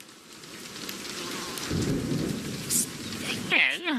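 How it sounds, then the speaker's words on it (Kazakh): A cartoon thunderstorm with steady rain pattering on a surface and a deep rumble of thunder swelling midway, followed by brief bright chirping tones near the end, at moderate volume. "Жаңбырдың астында қалмағанымыз мұндай жақсы болар ма?"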